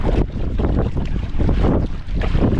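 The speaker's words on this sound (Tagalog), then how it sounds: "Ang lakas ng hangin." Strong wind roars across a small fishing boat at sea, a loud, steady low rumble with gusting surges and a brief dip near the end, no speech audible.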